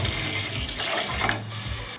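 Water poured from a tap or jug into a pot of drumstick-stem soup with pepper and split lentils, a steady close splashing stream running throughout with no talk.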